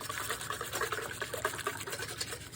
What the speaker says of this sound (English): now here I use my hand and I'm going to mix this